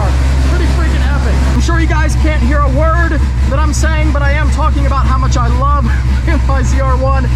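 A 1200-horsepower Corvette C7 ZR1 engine runs close by with a heavy, steady low rumble, loud and continuous beneath someone talking throughout.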